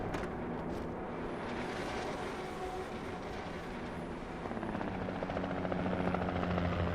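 Helicopter flying overhead in the video game Alan Wake, a steady rotor thrum that stays loud and close throughout and swells slightly toward the end, with no talking.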